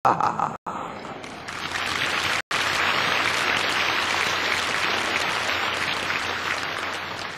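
Sustained applause from a church congregation during a revival-style gathering, dense and steady after a couple of brief gaps, filling the room at close range with no talking over it.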